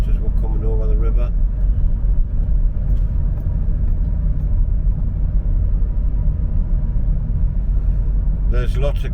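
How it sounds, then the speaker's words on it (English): Road traffic crossing a bridge over a river in Hexham on a Saturday morning, a continuous low rumble of passing cars, steady and fairly close, with brief talk at the start and end. "There's lots of cars there"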